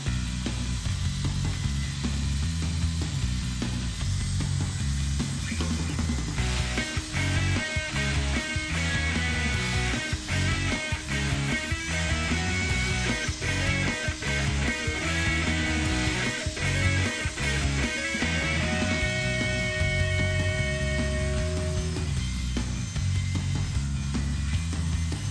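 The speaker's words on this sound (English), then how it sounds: "So I'm going to switch over to that, do a little bit more polishing on the deadwood" A rotary tool fitted with a narrow cut saw bit polishes Fraser fir deadwood, giving a continuous grinding buzz with rapid ratcheting clicks and bursts of scraping contact throughout, steady and close.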